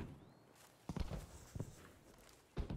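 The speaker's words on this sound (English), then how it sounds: "We hear footsteps now." Footsteps in the Battlefield 5 video game, a few soft, separate steps spaced across a quiet moment, faint and fairly close.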